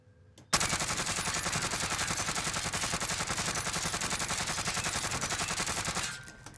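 Krig 6 rifle in Warzone firing one long, steady full-auto burst of evenly spaced rapid shots, loud and close, with no talk over it.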